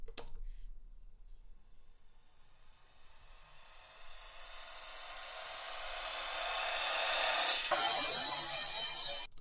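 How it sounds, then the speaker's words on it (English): A hissing, shimmering wash swells gradually over several seconds like a building cymbal crash, then cuts abruptly into a brief, rougher tail. "Like there's a cymbal crash as well."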